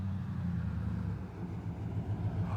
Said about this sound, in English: oh wait, we got a loud truck. Here it comes.